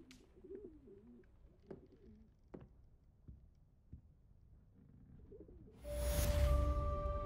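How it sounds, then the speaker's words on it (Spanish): Soft, repeated coos from an owl in the Hogwarts Legacy video game sound in a quiet scene, with a few faint taps. A louder burst of game noise and a sustained tone take over near the end. "Ah, mi lechuza. Está bonita."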